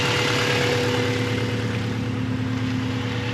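Honda Civic four-cylinder engine idling roughly with a misfire, a steady low rumble with uneven pulsing and faint vibration heard close by, no talking.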